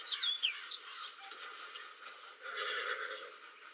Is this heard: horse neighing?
yes